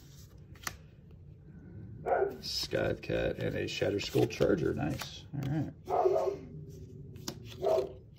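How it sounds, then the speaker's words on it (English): Pet dog barking excitedly in the background, short yips and barks scattered beneath close speech and card shuffling as booster packs are opened. "Dog's going crazy."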